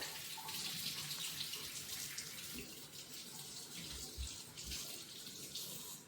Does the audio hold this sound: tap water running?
yes